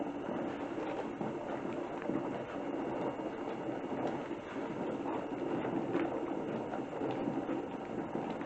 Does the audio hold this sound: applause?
no